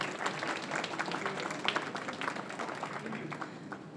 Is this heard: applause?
yes